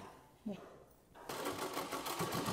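A sewing machine stitches a blouse, starting after a brief quiet pause and running steadily and close for the rest of the clip, with a voice speaking faintly underneath.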